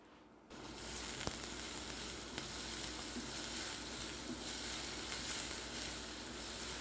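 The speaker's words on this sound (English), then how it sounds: "we're just going to fry and then deglaze it in red wine" Vegan ingredients fry in a pan, a sudden burst of sizzling that settles into a steady close hiss with faint stirring clicks, no speech.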